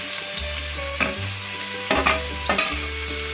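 Onion and tomato sautéing together in a pan over a wood-fired stove, a continuous loud sizzle with a few sharp stirring scrapes and a low steady hum underneath, close and without talk.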